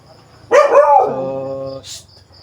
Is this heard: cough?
no